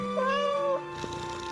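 A large black cat meowing close by, one drawn-out rising and falling call followed by a softer trailing sound.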